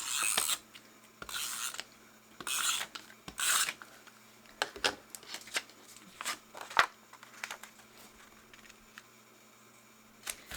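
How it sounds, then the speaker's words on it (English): Double-stick tape is pulled and pressed onto sketchbook pages, giving close, dry rasping and rubbing bursts in short separate strokes with quiet pauses between them. "I'm just using some double stick tape"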